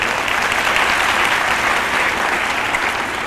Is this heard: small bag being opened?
no